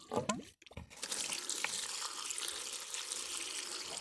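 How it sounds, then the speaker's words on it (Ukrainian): Water pours steadily from a tap into a bucket while a plant nutrient solution is being mixed, a close, continuous splashing rush that follows a few brief knocks and handling sounds at the start. "Далі нам треба залити це все водичкою."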